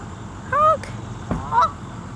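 Domestic goose honking twice nearby, two clear, loud nasal calls about a second apart over quiet outdoor background, with no speech.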